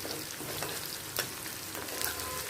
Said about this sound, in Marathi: आणि त्याला छान परतवून घेते.